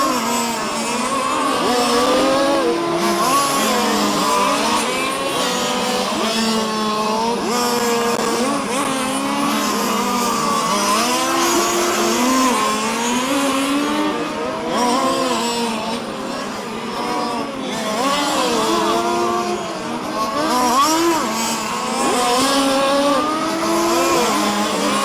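Race cars lap a circuit with a double-apex corner, engines wailing and shifting pitch continuously as several cars pass close and loud, with tire squeal mixed into the steady roar.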